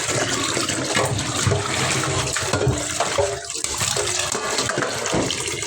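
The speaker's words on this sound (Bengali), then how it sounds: "এবার গোটা গোটা অবস্থাতে ধুয়ে নিতে হবে ভালো করে" Whole fish being washed by hand in water, continuous close splashing and sloshing with running-water rush, loud and steady throughout with brief dips, no speech.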